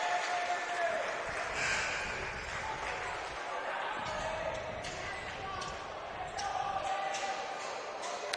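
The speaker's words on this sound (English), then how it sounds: "Jacques Billiot checks in for Kobe Cantrell, who gets a round of applause." At a high school boys basketball game, the crowd applauds a player coming off on a substitution. The clapping is steady under the announcer's talk, with sneaker squeaks and ball bounces from the gym court mixed in.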